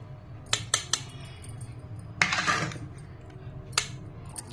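Jaggery kesari is scooped into a serving bowl, with a handful of sharp metallic clinks and scrapes of a spoon against metal vessels, spaced apart and close by over a quiet background.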